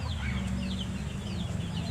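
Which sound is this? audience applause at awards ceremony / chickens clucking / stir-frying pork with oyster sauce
chickens clucking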